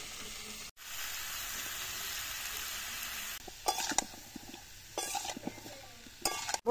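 Chopped mango being stirred in a pan with salt and turmeric for a jaggery pickle, a steady sizzling hiss broken by bursts of scraping and clinking from the spoon against the pan, close and without talk.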